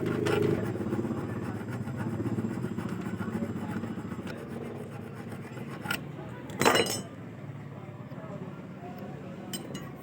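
A sewing machine shuttle filed with a metal file, a close continuous rasping scrape under a voice, with a couple of brief metallic clinks near the end.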